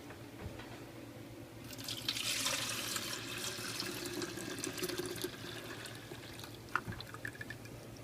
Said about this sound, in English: Now we're going to pour the broth into a container for defatting.